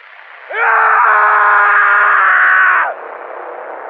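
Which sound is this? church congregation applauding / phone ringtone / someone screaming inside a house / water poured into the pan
someone screaming inside a house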